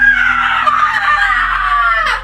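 A woman's long, piercing scream from the 2016 horror movie Ouija: Origin of Evil, loud and sustained for about two seconds before breaking off abruptly.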